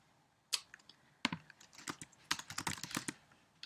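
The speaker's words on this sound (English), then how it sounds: "I cannot type" Quick, uneven bursts of keystrokes on a computer keyboard while an online form in Google Drive is filled in; the clicks are close and crisp, with short pauses between flurries and no voice.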